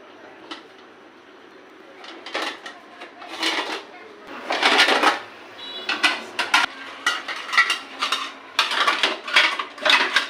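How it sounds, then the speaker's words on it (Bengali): Pots, pans and other metal cookware clatter and clank as they are carried and stacked away, giving a string of irregular knocks and rattles that get busier toward the end. "বেগুনিতে অনেক হাড়ি পাতি রাখছি ওইগুলা আইনা আইনা রাইখা দিই"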